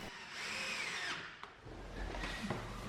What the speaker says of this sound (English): I drill and fix the shelves to the legs with simple countersunk screws